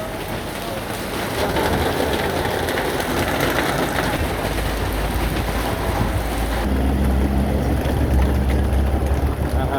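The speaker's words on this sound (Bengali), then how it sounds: "যত সময় যাচ্ছে ততটাই কিন্তু বৃষ্টির গতি কিন্তু বেড়ে চলেছে" Dense, roaring downpour of heavy rain pounding a village market street, loud and unbroken throughout, with a low rumble growing stronger toward the end.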